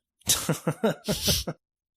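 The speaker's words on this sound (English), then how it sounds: "let me clear my throat" Someone clears their throat close by in a quick run of harsh, gravelly bursts lasting about a second, with no other talking.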